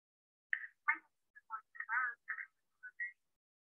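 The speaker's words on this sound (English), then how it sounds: "Okay, so the dialer is dialing" An automatic phone dialer dialing out: a quiet run of short separate electronic tones in an uneven sequence, each clipped and tonal against silence.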